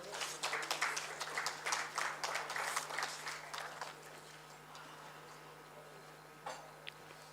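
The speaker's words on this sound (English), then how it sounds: "Could we invite all of them onto the stage now with a big round of applause from all of you" A conference audience claps to welcome a panel onto the stage at a regional AI event, a brief burst of fairly distant applause fading out after about four seconds, leaving quiet room hum with a couple of isolated knocks.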